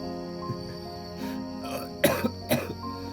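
A voice imitates a dying man coughing up blood: a few quiet throat sounds, then two harsh, close coughs in quick succession, with a soft, steady tone underneath.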